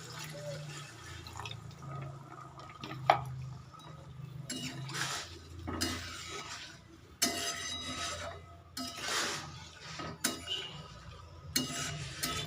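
Water goes into a cooking mustard spice paste that has released its oil, giving close, faint splashes and drips along with scattered clinks of a utensil against the pan.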